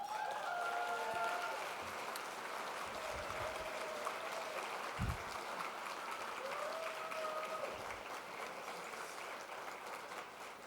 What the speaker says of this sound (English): And that applause is really for the workers.